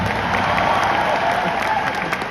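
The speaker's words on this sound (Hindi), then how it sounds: "उस पर्सन के लिए भी एक बार ताली बजा दो यार" Dense audience applause at a motivational business seminar, steady and loud throughout with many hands clapping at once and faint crowd noise mixed in.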